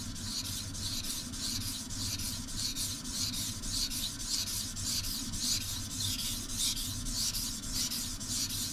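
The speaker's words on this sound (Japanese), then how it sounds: "もう一回ずらして、こうやって同じところを研ぐ。" A kitchen knife sharpened on a wet whetstone, with close, steady rhythmic strokes of the blade rasping back and forth in an even, repeating pattern with no talk.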